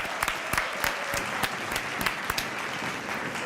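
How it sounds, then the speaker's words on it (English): A round of applause for goalkeeper Iñaki Peña during a Barcelona versus Espanyol La Liga live show, with a wash of clapping broken by several sharp, louder individual claps close by. "round of applause for Iñaki Peña"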